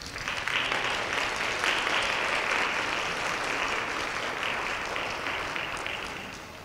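A dense, steady round of applause from an audience at a science and engineering awards ceremony honoring middle school winners, sustained evenly and fading slightly at the end.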